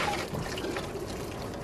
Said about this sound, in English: now that the eggs are done, I'm just going to drain the water